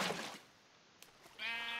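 A Minecraft sheep lets out a single short bleat near the end, clear and close, after a quieter stretch of faint game ambience and a small click.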